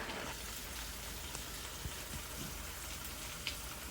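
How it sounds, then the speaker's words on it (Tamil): Brinjal pieces sautéing in hot oil in a pan give a steady, close sizzling hiss with faint crackles and pops, heard alone throughout without any voices. "நல்லா வதக்கிக்கலாம்."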